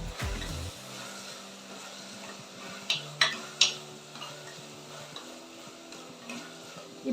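Mixed vegetables sautéing in a pan for wheat rava biryani, a low sizzle under a few sharp utensil clinks and taps against the pan, close and moderately quiet with no talk.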